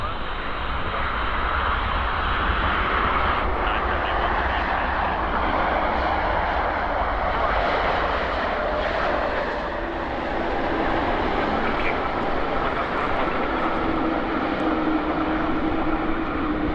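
Airliner rolling for takeoff on runway 26 left at Vancouver airport, a steady broad roar of jet engines sustained throughout, loud and continuous with no talk over it.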